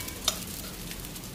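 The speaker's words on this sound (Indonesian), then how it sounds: "nah aku goreng ikannya itu udah mateng" Fish frying in a pan, a steady close sizzle with a couple of brief stirring scrapes, no voices.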